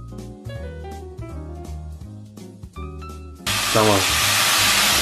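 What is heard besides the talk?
mushrooms and soy sauce sizzling in oil in a pan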